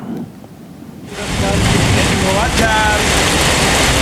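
Heavy rain in a flooding city, starting abruptly after a quiet second as a loud, dense, continuous roar that fills the rest of the clip, with faint whistling tones briefly audible within it.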